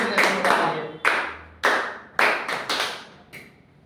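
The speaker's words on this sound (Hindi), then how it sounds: "इसके लिए ताली बजाओ भाई, आराम से ताली ऐसे बजाओ" A class claps hands in scattered, uneven bursts, sharp slaps ringing out close by and trailing off into a few final taps, with no speech.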